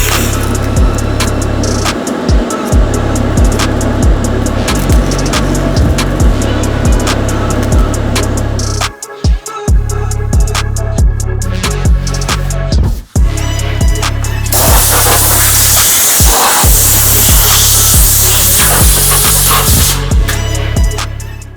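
TIG welding on the cut and widened fenders of a widebody Mitsubishi 3000GT VR4, a steady dense electric crackle and hiss running nearly continuously with a few brief breaks, close and loud, with no talking.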